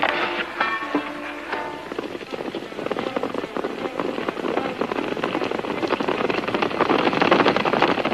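Strings of firecrackers burst at a dam in a 1939 western, a dense rapid crackle of pops that builds and grows louder over several seconds with no talk.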